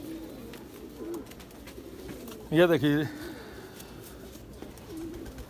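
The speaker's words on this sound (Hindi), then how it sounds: "और है एक कबूतर आ गया जी" A caged pigeon gives a loud burst of rolling coos close up, one brief call standing out midway while someone talks quietly around it.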